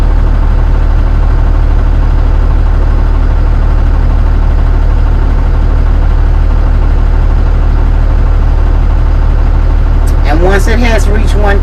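Bus engine running and held at raised revs to build air brake pressure during a pre-trip inspection; loud, steady, close rumble throughout, with a voice speaking over the end.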